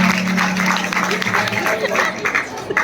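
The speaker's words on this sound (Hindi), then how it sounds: "ताली बजाओ एक बार।" An audience at a religious ceremony claps on request, a dense burst of applause running under a voice speaking over it throughout.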